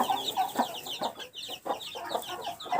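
Crested naked-neck broody hen tending her chicks, repeated soft low clucks in an uneven rhythm mixed with high peeping from the chicks, close and continuous with no talk.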